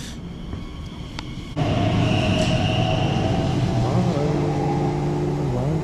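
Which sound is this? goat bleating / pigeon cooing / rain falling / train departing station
train departing station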